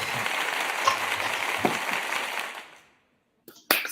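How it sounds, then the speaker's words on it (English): A round of applause from a small group at an online talent and jobs event, steady clapping at moderate level that fades out, followed by brief silence and a couple of short knocks. "So we are giving you this round of applause all the way from Big Talent once again."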